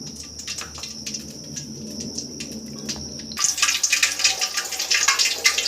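Potatoes for French fries are rinsed in a vessel of fresh water. Soft trickling gives way to louder, uneven sloshing and splashing in the second half.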